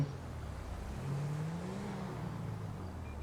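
A car driving in the video game GTA V, its engine a low, steady hum that rises slightly as it accelerates, heard alone at moderate volume.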